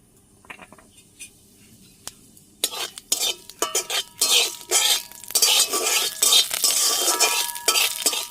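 Panch phoron seeds and a dried red chilli hit a little oil in a wok. A few quiet clinks come first, then bursts of crackling sizzle and scraping stirs build up loud and close.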